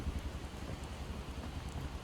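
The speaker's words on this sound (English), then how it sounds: "It's absolutely chucking it down, isn't it?" Heavy rain falls in the survival game Project Zomboid, a steady, dense hiss of downpour that runs unbroken throughout without any voices.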